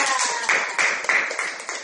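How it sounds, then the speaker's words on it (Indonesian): Classroom clapping, a short series of group hand claps in a steady rhythm with voices of students and teacher mixed in. "Oke, tepuk tangan"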